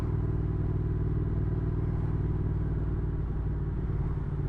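A Triumph Thruxton R motorcycle fitted with Vance Hines exhaust pipes rumbles steadily at close range, a deep, even throb holding without a break throughout.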